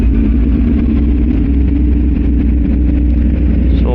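A pickup truck engine in a video game runs steadily at a low, rumbling idle, close and loud throughout, with no voices over it.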